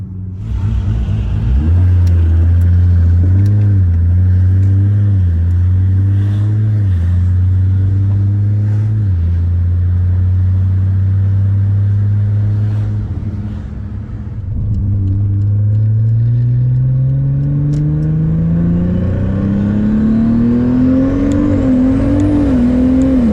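An 1100 hp Nissan Skyline GT-R with an 8-speed street transmission drones loudly from inside the cabin, its engine climbing and settling through gear changes, with a brief dip before a long rising pull, no talking.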